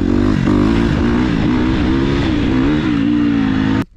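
A KTM motorcycle engine revs hard under a big twist of throttle, a loud, close, sustained roar with rising and falling pitch that cuts off abruptly at the end.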